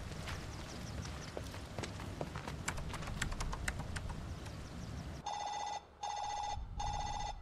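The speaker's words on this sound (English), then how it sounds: "Oh, it's a phone." A phone rings in the video game Final Fantasy VII Rebirth: three crisp, evenly spaced electronic ring bursts cut in after a stretch of footsteps and clattering gameplay noise.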